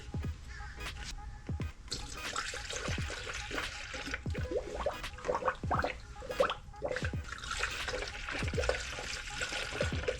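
Coolant being poured into the radiator of a Mazda CX-5, giving a steady close gurgle and trickle of liquid, with small splashy drips throughout and no talking.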